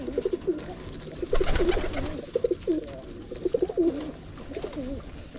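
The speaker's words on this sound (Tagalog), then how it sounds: "Yung mga ibon ni Mamo bumababa naman dito." Pigeons coo repeatedly in soft, rolling bursts close by, with a brief flutter of wings partway through and low background noise.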